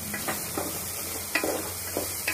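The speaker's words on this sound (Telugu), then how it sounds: "ఉల్లిపాయ నూనెలో మగ్గుతున్నాయి." Onions and green chillies softening in hot oil for a gongura pickle, making a dense continuous sizzle with soft periodic stirring scrapes, close and fairly loud with no voices.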